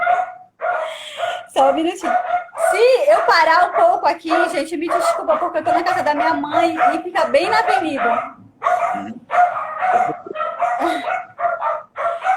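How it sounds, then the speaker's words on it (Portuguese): Several dogs bark repeatedly in the background while someone talks continuously over them, the barking rising in sharp bursts through the clip. "esse é o barulho dos cachorros"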